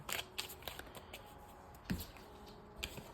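A deck of tarot cards is shuffled close up, with soft papery riffles broken by several sharp flicks and taps spread irregularly over a few seconds, quiet and with no one speaking.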